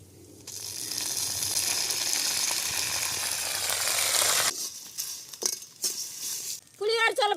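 Chana dal, dried red chillies and lemon leaves sizzle steadily in wood-pressed oil in a village kitchen, a loud continuous frying hiss that cuts off, then gives way to scattered clinks and stirring with a voice briefly heard.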